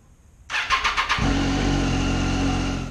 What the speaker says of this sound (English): The next thing I'm gonna do is just start the bike for about a couple minutes, get the oil a little warmer